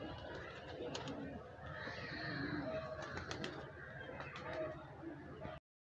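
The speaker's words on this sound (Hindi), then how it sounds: "बहुत ही अच्छा कबूतर है ये।" A pigeon coos in a rural setting near a pond and fields, soft repeated low calls rising and falling over faint outdoor background, with someone talking at times.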